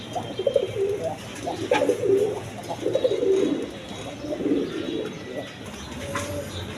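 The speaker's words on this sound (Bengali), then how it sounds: "দশমীদা এই যে কবুতরগুলো দেখেন" Repeated low, throaty cooing of pigeons, close by, in rhythmic bursts with faint chirps in the background.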